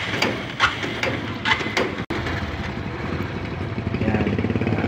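After GTO oil additive is poured in, a motorcycle engine starts with a few clicks and knocks, then settles into a steady, close, low idle without revving. No one speaks.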